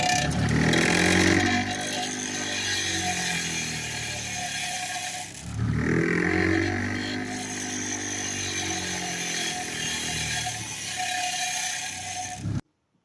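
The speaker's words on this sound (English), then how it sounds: "we're going to take it over to the old grinder, and we're going to grind off these tabs" Bench grinder grinding off metal tabs from a John Deere compact tractor diff lock part, a loud harsh continuous grind with two surges as the piece is pressed to the wheel, no talk.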